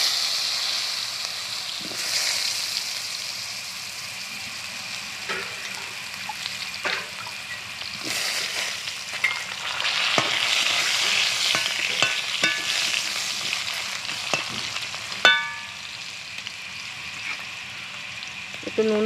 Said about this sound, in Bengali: এবার আলুগুলোকে একটু ভেজে নেব।